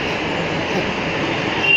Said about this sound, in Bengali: আমরা এখন মেট্রো রেল দিয়ে যাচ্ছি